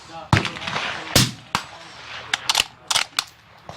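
Rifle shots from a Uintah Precision UPR-15 in .223 at a long-range outdoor shooting session, several sharp cracks spaced irregularly, close and loud, with someone talking between them.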